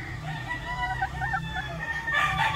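A gamefowl brood stag crows in a drawn-out cock-a-doodle-doo, the call carrying clearly over a low background hum with some other fowl noise.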